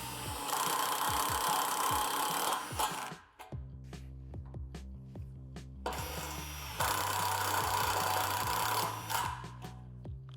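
Power driver sending self-tapping screws into metal swing set poles, two long bursts of loud whirring separated by a quieter gap with clicks, close by and without talk.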